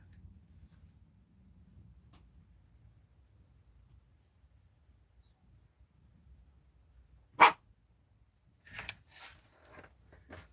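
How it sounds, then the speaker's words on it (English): A single sharp dog bark rings out in a quiet room, followed a moment later by a few softer yips and scuffles. "Are you barking at me, Rosie?"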